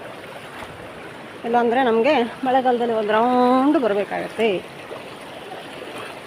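River water rushing steadily as a shallow stream near Makkandur, Madikeri, is crossed in the dry season, a constant wash of flowing water beneath someone talking.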